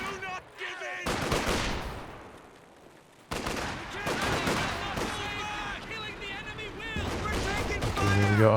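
Infantry support gun barrage in Company of Heroes 2, a run of booming shell impacts and gunfire bursts in a dense battle mix, loud and continuous with a short lull, with game voice callouts mixed in.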